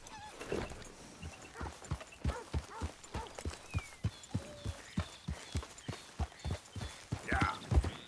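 Hooves clip-clop steadily from a horse trotting in Red Dead Redemption 2, with about two dozen evenly spaced, fairly close hoof strikes. A brief whinny or snort comes near the end.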